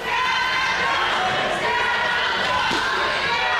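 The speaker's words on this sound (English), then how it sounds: "Crowd chanting for Down Under, trying to get him back to his feet" A wrestling arena crowd at an ACW Thunderstruck event chants for wrestler Down Under, a loud continuous roar of voices filling the whole stretch with no pauses.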